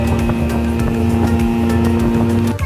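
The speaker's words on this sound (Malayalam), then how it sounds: "സ്പീഡ് ബോട്ടിൽ തിരിച്ച് മാൻഗ്രൂവ് ഫോറസ്റ്റിലൂടെ ബാരത്തംഗിലേക്ക്" Speedboat engine droning steadily and loud at close range during a ride through a mangrove forest toward Baratang Island in the Andaman Islands, with a constant tonal hum and wind rushing past.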